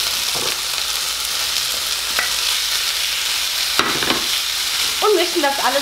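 Spaghetti tossed into a pan of olive oil with browned garlic for aglio e olio, a steady close sizzle with scattered stirring clacks and a brief voice near the end.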